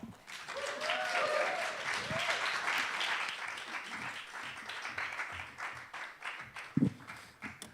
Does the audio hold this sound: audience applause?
yes